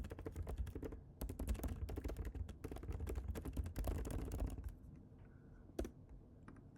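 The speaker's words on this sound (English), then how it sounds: "Maybe last we'll just type in some junk." Fingers type quickly on a computer keyboard, a dense run of close, crisp key clicks that thins to a few isolated taps near the end.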